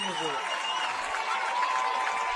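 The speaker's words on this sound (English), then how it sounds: "here's BB fans getting loud" Beebe football fans roar from the stands at a high school game against Greenbrier, with a dense, sustained crowd noise that holds evenly throughout.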